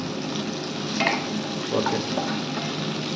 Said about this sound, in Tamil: நல்லா வதக்கிட்டு இப்போ வந்து ஒரு 2 மினிட்ஸாவது நல்லா வதக்கிட்டு